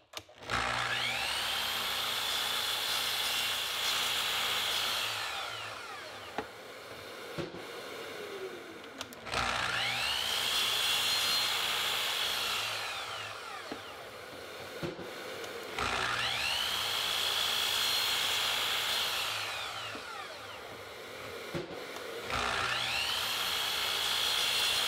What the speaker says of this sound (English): I've set the miter saw at a 45 degree angle and set up a stop block so I can cut a chamfer